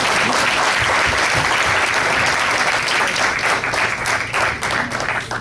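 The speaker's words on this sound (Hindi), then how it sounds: "एक बहुत जोरदार ताली बजा" Loud, sustained applause for the poets at a mushaira gathering, a thick close wash of many hands clapping that thins slightly toward the end.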